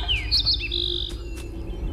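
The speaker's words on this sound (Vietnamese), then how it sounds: "Đúng rồi, có tiếng chim hót." A young bird perched on a tree branch gives a quick series of high, bright chirps and tweets, close and clear over a low background rumble.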